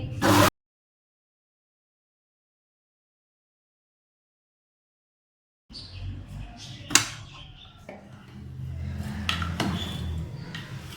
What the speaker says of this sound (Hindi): मैंने चॉपर में डाल दी है रोटी और मक्खन। अब हम इसको चॉप करेंगे।